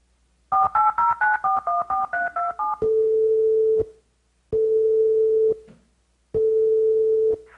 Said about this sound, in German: Und dieser Telefonanruf, der hat sich dann wahrscheinlich ungefähr so angehört.